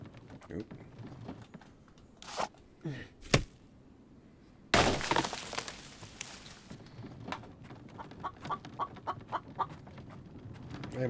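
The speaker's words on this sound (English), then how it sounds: "Rooster." A rooster in the survival game The Infected crows and clucks at mid-distance amid rapid computer keyboard clicks and bursts of game noise, with a loud broadband rush partway through.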